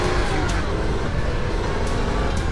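A car race gets underway in GTA San Andreas on PS2, with loud, steady engine roar and road noise filling the scene and a few brief sharper bursts on top.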